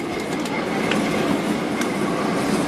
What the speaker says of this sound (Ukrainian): Їдемо в історичному трамваї номер 28